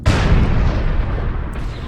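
An LBX-10 autocannon in MechWarrior Online fires a shotgun-like canister shell, a single loud, heavy boom with a broad, crackling burst that trails off over about two seconds.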